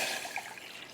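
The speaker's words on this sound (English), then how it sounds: "Starting by going into this pot with some water" Water pours into a cooking pot for a pickling brine, a close, splashy rushing trickle that is loudest at first and then eases slightly, with no voices.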